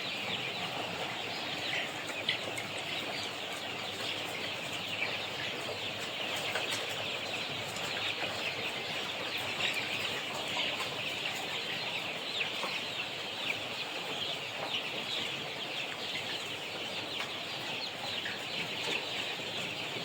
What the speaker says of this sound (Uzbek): Ikkinchi partiyamiz xo'rozchalar.